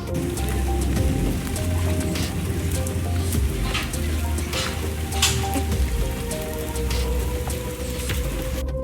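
Heavy rain pours steadily outdoors, a dense, continuous hiss of drops on surfaces with occasional louder splashes, filling the scene without any talking.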